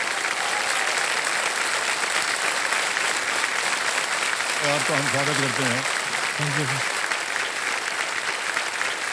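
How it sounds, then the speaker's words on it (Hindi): Sustained studio audience applause on a quiz show greets a contestant in the hot seat, a constant wash of clapping while someone briefly speaks over it partway through. "जोरदार तालियां बज जाए इनके लिए।"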